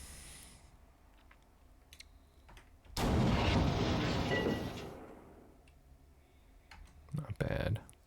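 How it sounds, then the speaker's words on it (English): A tank's main gun firing at an enemy in the video game Armoured Commander II, one loud blast with a long rumbling decay lasting about two seconds, set among sparse interface clicks and a second sharp burst near the end. "Now we're going to rotate our turret back. And let's fire at him."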